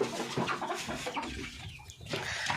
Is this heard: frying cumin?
no